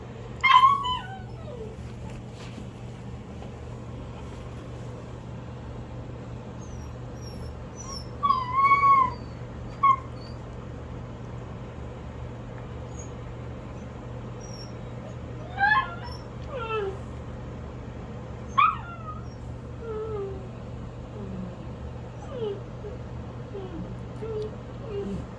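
Week-old Bordoodle puppies give high, thin whimpers and squeaks in scattered short bursts over a steady low hum, fairly close by.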